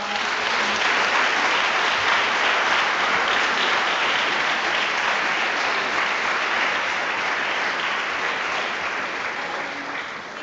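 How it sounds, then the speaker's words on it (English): Steady, dense applause from an audience at a women's history month panel fills the hall without a break, holding full strength before easing slightly near the end. "Can we have a round of applause?"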